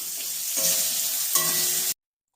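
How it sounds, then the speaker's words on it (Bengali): Carrots and capsicum frying in a pan as vegetables are sautéed for a vegetable dal, a steady close sizzle with stirring scrapes for about two seconds, then sudden silence. "এখানে আমি সবজিগুলো সব ভেজে নিচ্ছি"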